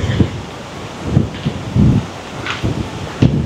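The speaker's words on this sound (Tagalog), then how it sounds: "Mahangin." Gusty wind at a beach, buffeting the microphone in irregular low rumbling bursts over a steady breezy hiss, with no talking.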